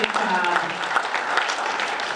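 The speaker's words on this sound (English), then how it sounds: "Can we give her a round of applause, please?" A dinner crowd at a Lincoln Day Dinner claps loudly and continuously, a close, dense burst of applause with some voices mixed in.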